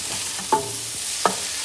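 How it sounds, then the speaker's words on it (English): Sliced onions fry in oil in a pan under a quiet sizzle, with two sharp scraping knocks of a spatula stirring them and no talking. "saute the onions, but here the saute should be brown"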